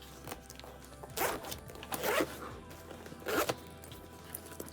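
Zipper on a secondhand bag being pulled open in a few quick rasping strokes, close and clear, with faint handling between pulls.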